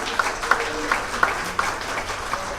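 Guests at a Nepali holy matrimony ceremony clap in a steady rhythm, roughly three distinct claps per second, moderately loud against a faint hall background with no talking.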